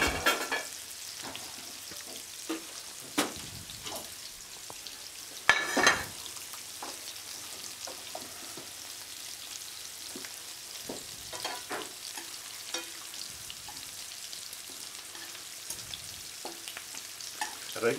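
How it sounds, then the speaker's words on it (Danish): Turbot fillet with a crust of potato scales sizzles in a frying pan, a steady soft crackle broken by sharper clicks and scrapes as the fish is handled, with no talking. "når man steger fisk og i det hele taget steger, så er det godt, hvis man kan nøjes med at vende emnet en gang"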